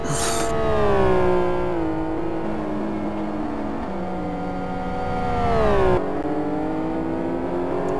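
A race car engine in the GT1 Challenge sim racing game revs loud and close with no talk over it, its pitch rising and falling through gear changes and a sharp drop near the end.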